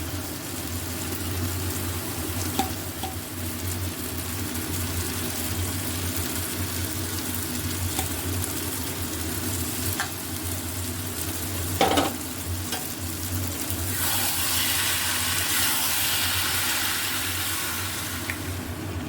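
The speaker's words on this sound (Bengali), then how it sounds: "মশলাটা কষে গেছে, এবারে আমরা এর মধ্যে সবজিগুলো অ্যাড করে দেবো।" Winter vegetables fry in a spice masala, giving a continuous close sizzle with scattered stirring knocks and a brief clatter, the frying growing a bit brighter toward the end, no talking.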